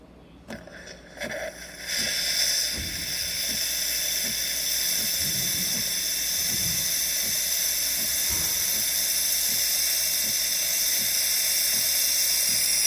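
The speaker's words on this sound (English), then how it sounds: "now we can make steam." A Gaggia Brera espresso machine's steam wand lets out a loud, steady hiss that starts after a couple of seconds of quieter clatter and runs continuously to the end, with faint low knocks underneath.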